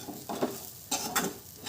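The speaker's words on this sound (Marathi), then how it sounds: "हे आधी मिक्स करून घ्या." Tur grain kachori filling being stirred in a pan, soft scraping strokes and faint sizzling in short bursts, close and fairly quiet.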